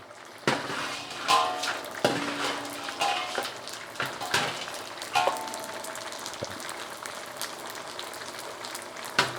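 Pork rinds fry in a hot pan, with crackling and sizzling under repeated clanks of a utensil stirring against the metal, close and moderately loud, no speech.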